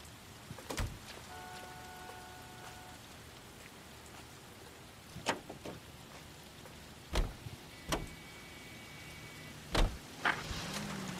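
Rain falls steadily in the L.A. Noire video game, a soft continuous hiss with a few sharp thumps and clicks like car doors and movement scattered through it, no voices.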